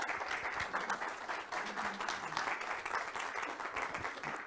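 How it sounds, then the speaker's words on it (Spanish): Audience applause after a talk, a dense, steady wash of many hands clapping that carries on evenly for the whole stretch with no voices rising above it. "Fuerte el aplauso para Gabriel."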